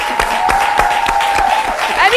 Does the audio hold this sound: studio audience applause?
yes